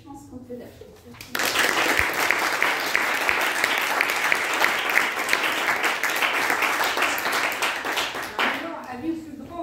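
Applause greets a pianist at a piano master class, bursting in suddenly after a brief spoken introduction, holding dense and loud for several seconds, then cutting off as talk resumes.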